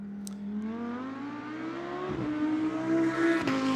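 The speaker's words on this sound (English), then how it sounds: "That beautiful Audi engine, such a great roar" The Audi engine of a GT2 race car roars at Monza during a Fanatec GT2 European Series race in 2023, a loud sustained note that climbs steadily in pitch, with a brief dip before rising again.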